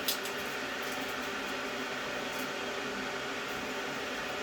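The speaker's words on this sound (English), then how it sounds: "Well, the water's boiling now." A steady, hissing bubbling roar of boiling water fills the clip at constant level, close by, with no talking.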